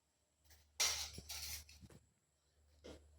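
Spoonfuls of ground sugar tipped into a homemade ice cream mix, giving a few soft scraping clinks of a spoon against a bowl, quiet and close, with a brief pause before a final small tap.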